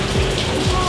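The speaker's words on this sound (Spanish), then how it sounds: "Se acaba de largar a llover en este preciso instante" Rain just starting to fall, a steady, loud, close patter of drops spread evenly across the whole short moment, with no voices over it.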